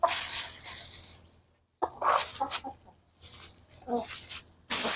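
Chickens cluck in bursts around a rural Lao or Thai farmyard, loud and close, with brief quiet gaps between the flurries of calls.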